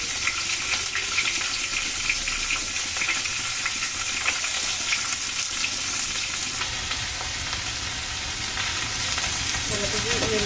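Cabbage fries with green and dried chillies in a pan, a steady loud sizzle with scraping stir strokes throughout, no voices.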